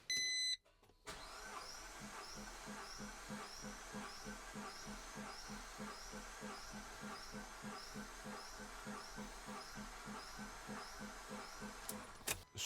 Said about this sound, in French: Comme tout à l'heure, je fais suivant et j'actionne le démarreur